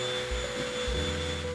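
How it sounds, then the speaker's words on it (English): A vacuum cleaner runs somewhere in a home during cleaning, a steady whining hum with a faint tonal drone, heard in the background with no talk over it. "Apologies if you hear the vacuum in the background there."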